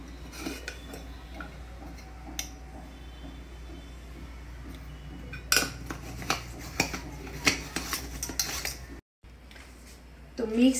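Utensil clinks and scrapes in a bowl as fish roe batter is mixed with salt, turmeric and roasted spice mix, intermittent taps and knocks growing busier midway, close and fairly quiet.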